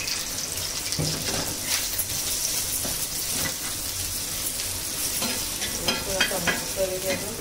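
Sukat, tiny dried shrimp, fries in a pan with garlic, giving a loud steady sizzle overlaid with repeated scraping and stirring strokes of a spatula.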